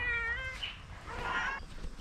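A pet cat meows close by, two drawn-out, plaintive cries with a short pause between them.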